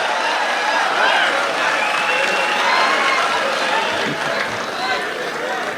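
Loud, sustained applause from an audience at a poetry gathering welcoming poet Shakeel Azmi to the stage, a dense, even wash of clapping with crowd noise mixed in.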